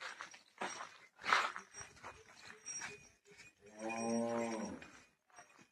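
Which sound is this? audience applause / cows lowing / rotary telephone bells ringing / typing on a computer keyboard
cows lowing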